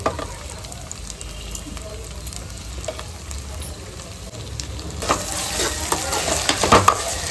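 Chicken with tomato and salt sautéed and stirred in a pan for a Tamil-style chicken gravy. It gives a steady sizzle with scraping stir strokes, growing louder and busier toward the end.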